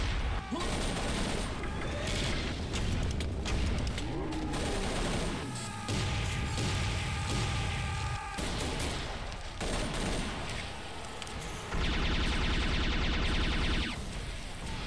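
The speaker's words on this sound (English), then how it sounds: "Then I'll use a cannon on you." Heavy gunfire and booming cannon blasts from the first-person shooter Serious Sam 3: BFE during a kamikaze enemy wave, with dense continuous bursts, loud crashes and explosions filling the whole stretch.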